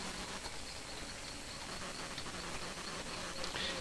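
Insects and bees buzz continuously in the jungle area of the video game Vanished Voodoo Villa, a steady ambient drone with faint chirps and no talking.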